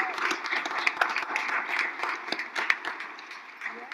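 Audience clapping at a community empowerment and equity event honoring parents and public advocates, a dense, steady patter of many hands with scattered louder claps, filling the room throughout.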